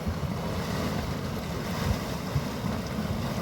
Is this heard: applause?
no